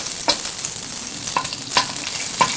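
Scallion whites and ginger fry in olive oil over medium-high heat, a loud close sizzle with a few sharp spatula scrapes against the pan.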